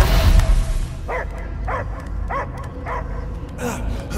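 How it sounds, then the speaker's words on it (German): A dog barks in the Guardians of the Galaxy video game, giving a series of about six short, evenly spaced yelps over a steady low background rumble, with a loud burst at the start. "Ich höre nur Gebell."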